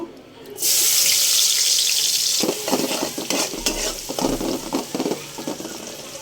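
Spice paste fries in oil released by hilsa fish, a loud dense sizzle that swells quickly and holds steady, then gives way to a rhythm of spoon scrapes stirring through the pan.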